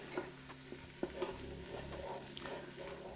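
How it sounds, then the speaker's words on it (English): Garlic and onions frying in ghee in a Ninja Foodi multicooker, stirred with steady scraping strokes over a constant soft sizzle, with no talking. "And now I'm going to begin adding the garlic and onions. And just keep stirring."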